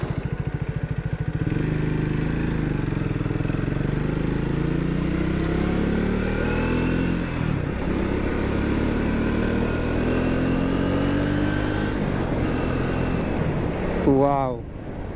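Triumph Speed T4 motorcycle engine pulling hard during a ride, a loud continuous drone with steady wind roar, while a rider talks over it throughout.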